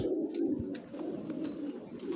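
A pigeon coos softly in a low, steady murmur, faint and close, with no voices.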